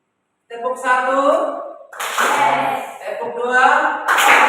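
A group stands for a 'tepuk semangat' rhythmic clapping cheer in a morning class. Loud chanting voices carry most of it, broken by a couple of sharp clap bursts.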